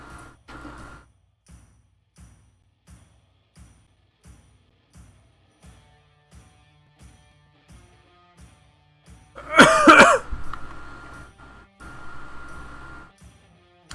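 A person coughing and clearing the throat, soft regular short coughs repeating at a steady pace, then a louder, harsher burst of coughing and throat clearing near the middle before it settles back to quieter coughs.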